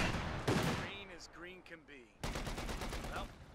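Gunfire from a .50 cal on a half-track in the strategy game Company of Heroes 2, heard as bursts of rapid fire among battle noise, with voices mixed in.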